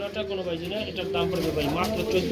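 Pigeons coo in soft, wavering low tones close by, a continuous murmuring call with faint chirps mixed in.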